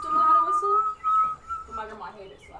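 Someone whistles a steady high note, holding it and then breaking off, with people chattering in the background.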